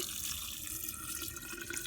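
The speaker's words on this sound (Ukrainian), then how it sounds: "заливаю питною водою кімнатної температури." Room-temperature drinking water pours steadily into a jar of lightly crushed blackberries, a continuous close splashing trickle with no pauses.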